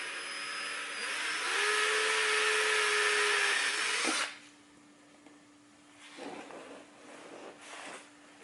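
A drill with a 5/32 inch bit boring holes into the bottom of a BMW i8 front bumper for OEM aero splitters, a loud steady whine for about four seconds that stops abruptly, followed by quieter handling noises.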